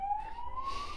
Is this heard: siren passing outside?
yes